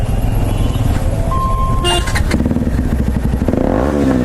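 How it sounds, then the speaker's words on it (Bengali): A KTM motorcycle with a loud aftermarket exhaust runs loud and close, chugging steadily before revving up with a rising whine; a voice is faintly mixed in. "পাবলিকের দেখি তোমাদের বাইকে কি আওয়াজ হয়। চলো স্টার্ট করো"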